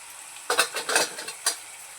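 A spoon scrapes and clatters through sambar in a pot, a few quick close strokes and one last tap over quiet background, with no talking.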